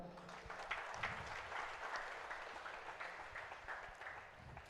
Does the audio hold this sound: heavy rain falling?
no